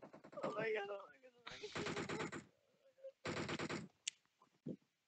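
Gunfire from a team firing in the mobile battle royale game PUBG Mobile, with bursts of rapid shots in two loud blocks, then scattered single shots. A commentator talks over the opening stretch.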